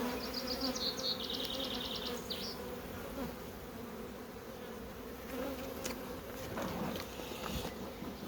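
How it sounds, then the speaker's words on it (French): Honeybees drone at their beehives in a constant, fairly soft buzz that swells and fades slightly as individual insects pass close by. "Ça fait du bien de venir voir mes petites abeilles là."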